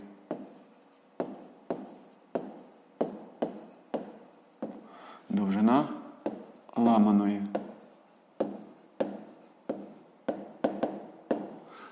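A pen writes on paper in a math exercise, making short scratchy strokes at a steady, close rhythm, with a few seconds of talking in the middle.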